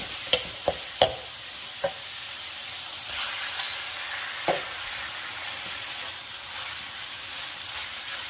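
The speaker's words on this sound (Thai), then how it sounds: "ทีนี้เดี๋ยวเราจะนำกุ้งลงไปเลยนะคะ ผัดนานเดี๋ยวหมูเขาจะแข็งไปนะคะ" Minced pork and fresh shrimp stir-fried in a pan, a constant loud sizzle and hiss broken by several sharp spatula clacks early on and a few later scrapes.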